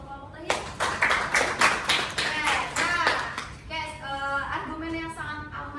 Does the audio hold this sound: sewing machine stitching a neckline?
no